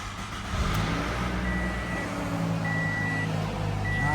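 A 2017 Toyota Camry LE starting up, the engine catching and then idling steadily up close, with a thin electronic chime tone sounding from the car partway through.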